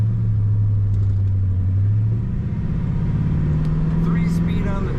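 A 1950 Ford Tudor sedan's flathead V8 idles smoothly with a low, even rumble, someone talking over the engine the whole time.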